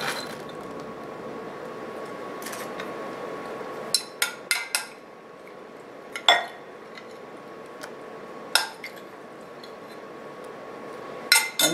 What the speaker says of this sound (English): I'm going to add about a 1/2 cup of walnuts